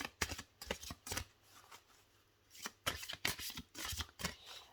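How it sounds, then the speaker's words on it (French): Oracle cards are shuffled by hand in quick, crisp riffling bursts, close and fairly quiet, with a brief lull in the middle and no talking. "Je vais vous tirer une carte de l'oracle de la femme sacrée."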